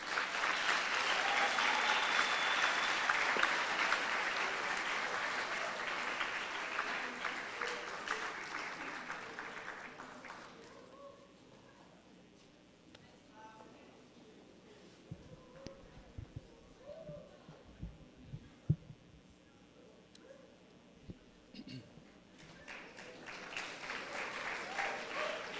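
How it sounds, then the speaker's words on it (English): A school audience applauds a departing teacher at a live-streamed class event, the clapping loud and dense for about ten seconds, then thinning into scattered claps and murmurs before swelling slightly again near the end. "giving her a round of applause."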